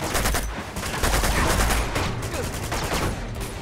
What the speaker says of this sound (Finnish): No nyt alkoi sota, ammutaas tosta RPG:llä toi kaveri.